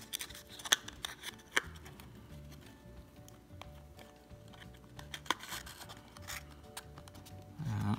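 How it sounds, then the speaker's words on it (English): Cardboard packaging for a restored Matchbox Lesney #33 Ford Zephyr III toy car being folded up, with soft paper creases, scrapes and a few sharp taps in a quiet room. "So all we have left to do now is to fold up our restored"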